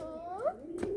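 Pigeons coo close by as they are brought down to land, a short soft cooing call with a faint voice nearby.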